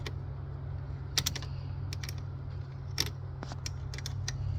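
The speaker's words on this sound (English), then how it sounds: "And I like to use a wrench on this" A wrench works on the battery terminal of a 2015 Honda CR-V, giving sparse, quiet metallic clicks and taps at irregular intervals over a low steady background hum.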